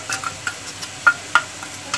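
Chili, ginger and garlic paste stirred into tomatoes frying in a pan, with soft scraping strokes and light sizzle at an irregular pace, close and fairly quiet.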